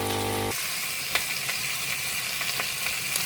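Steady sizzling of beef shin bones frying fills the clip, with a brief low mechanical hum from a cappuccino maker at the very start and a few faint clicks.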